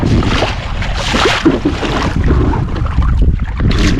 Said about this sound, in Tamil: காற்று வந்து அடிக்க ஸ்டார்ட் பண்ணுது.